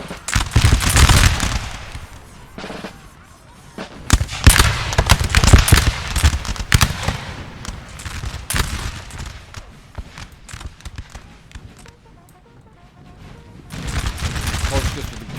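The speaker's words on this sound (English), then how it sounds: "Firing in all these Italian troops here." Musket volleys from French and Italian line infantry in the Napoleon: Total War video game, with several loud crackling bursts of massed fire rising and falling over about fifteen seconds, some near and some farther off.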